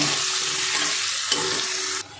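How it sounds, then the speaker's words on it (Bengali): Potatoes and onions frying together in a pan, a dense, close, continuous sizzle with stirring scrapes throughout, cutting off abruptly near the end. "আলু আর পেঁয়াজটা একসঙ্গে ভাজা করে নেব।"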